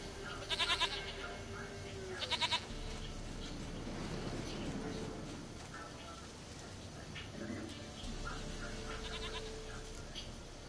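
A goat bleats in The Witcher 3, two short quavering bleats near the start and more further on, set against game ambience with talk running through.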